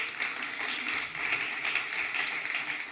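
Lively audience applause at an innovation summit as a hotel group's innovation executive is welcomed, dense rapid clapping that pulses a little in intensity and continues for several seconds.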